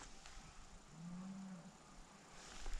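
A single cow in a cold paddock lets out one low, faint moo from a distance, set against quiet outdoor ambience.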